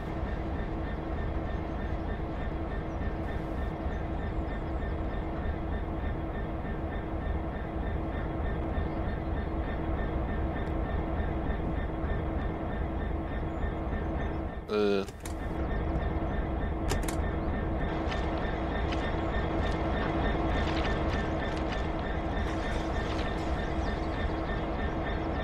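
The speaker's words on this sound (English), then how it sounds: "detach from the wagons and move the locomotive over to the fuel stand" A locomotive in Train Sim World runs with a steady, low mechanical hum and rumble, broken about midway by a short metallic clank.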